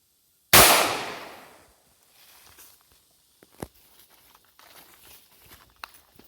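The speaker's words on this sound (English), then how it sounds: "Let's try one more shot." A single sharp gunshot fired at a small target rings out loud and close, its echo decaying over about a second, followed by faint handling clicks and quiet rustling.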